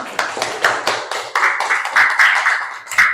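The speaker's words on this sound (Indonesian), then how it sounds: "Tepuk tangan." A classroom group claps at a teacher's prompt, the claps rapid and overlapping, rising to a steady, close burst of applause.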